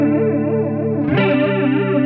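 An electric guitar chord rings through a modulation effect set to a faster speed, its tone wobbling in quick, even pulses as a new chord is struck midway, loud and alone with no talking.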